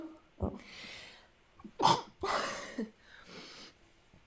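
A single sharp sneeze bursts out amid brief murmured speech and breathing, close to the listener.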